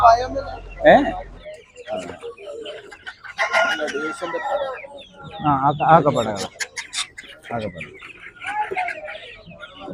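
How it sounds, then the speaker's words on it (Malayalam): Egyptian chickens at a Peruvallur poultry market, clucking and crowing in repeated bursts close by, mixed with people talking. "ഈജിപ്തൻ കോഴി."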